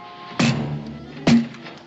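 Two heavy thuds against a wooden door, about a second apart, loud and close, each with a short booming resonance, in a 1969 western drama scene.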